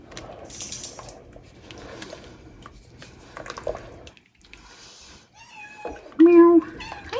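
A pet cat meows in a home kitchen while chicken and dumplings cook, a brief high call near the end, with kitchen clatter and a person talking through the clip.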